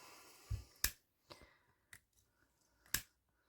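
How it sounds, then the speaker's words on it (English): Scissors trimming the end of a ribbon for a layered bow, a couple of crisp snips with a few softer clicks between them, close and quiet, with no voice present. "Just cut this down a little bit so it's even."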